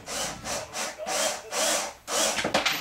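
A drill bores holes in wood for a model airplane's aileron, several short bursts of whirring and rasping wood cutting separated by brief pauses, close and fairly loud.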